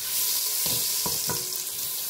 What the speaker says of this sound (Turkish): Şöyle küçük bir parça tereyağı attım.